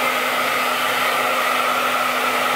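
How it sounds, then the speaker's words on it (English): A hair dryer blows steadily at close range on dreadlocks, a constant whooshing rush of air with a faint motor hum underneath. "I usually put the dryer on it, the hair dryer, so it helps them dry faster."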